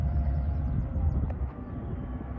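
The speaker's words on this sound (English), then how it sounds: "Here comes the train." A low, steady rumble of a train arriving at a railway museum fills the air, heavy and continuous, with a faint metallic squeal partway through.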